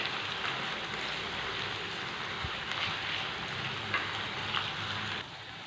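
Gooseberry pickle ingredients sauté in a clay pot over a low flame, making a steady, even sizzle and crackle up close, with a few soft stirring knocks.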